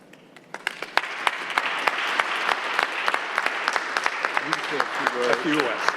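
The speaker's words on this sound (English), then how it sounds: "We applaud you, Doctor." A city council chamber breaks into applause for a doctor, many hands clapping in a dense wash building after a slow start, with distinct sharp claps standing out and voices speaking near the end.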